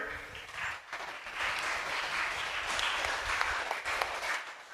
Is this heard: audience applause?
yes